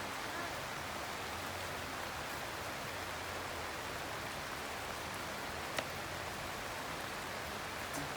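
Rain falls steadily at an outdoor graveside funeral, a dense, even hiss of drops on surfaces with no pauses, quiet and continuous.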